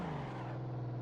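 A car engine in the racing game Assetto Corsa holds a steady, droning pitch under modulated throttle during a drift, a short continuous hum with no voices.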